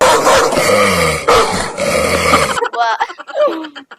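A dog growls low and rough over a couple of seconds, then breaks into short, higher whining yips, close by and fairly loud.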